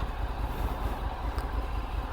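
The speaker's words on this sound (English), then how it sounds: "you can only check this when the engine is running" A 2024 Morbidelli MBP T1002VX V-twin adventure motorcycle idles with a steady low rumbling throb, close by and even in level, with no voices.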